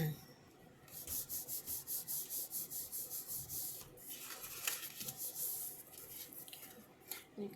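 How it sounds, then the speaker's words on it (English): Bone folder rubbed firmly along paper seams of a mason-jar treat box, a quiet rhythmic series of dry scraping strokes repeating steadily, close and alone. "You can use your bone folder to strengthen the seams."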